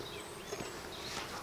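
Honey bees at an open hive during an inspection, a soft, continuous buzzing drone with faint wavering tones, quiet and close, and no talking.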